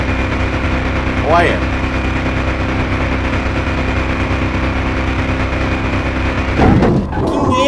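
A 1980 Ford Bronco fitted with a Jaguar V8 idles steadily and loudly close by, a constant deep rumble throughout, with brief voices and a couple of short disturbances over it.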